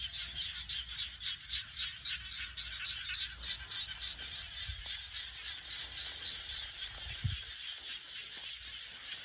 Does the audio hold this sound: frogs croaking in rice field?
yes